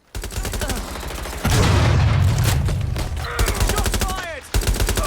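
Rapid automatic gunfire rattles in tight bursts in Watch Dogs: Legion, with a heavy explosive boom in the middle and voices breaking through between the volleys.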